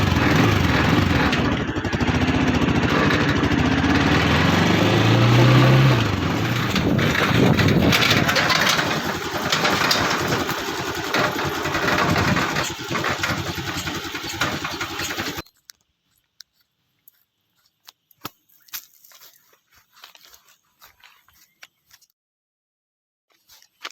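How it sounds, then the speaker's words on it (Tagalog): A small engine starts up and runs loud and close with a rough, steady drone for about fifteen seconds, then cuts off abruptly, leaving faint scattered handling clicks. "Sisimulan ko ng paandarin tong makina para makalis na tayo."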